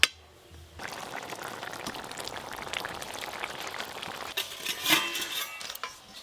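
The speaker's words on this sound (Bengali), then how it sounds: "পরিমাণ মতো জল দেব" Water poured into a pot of jackfruit, potato and prawn curry mix, a steady splashing stream for several seconds with a few clinks near the end.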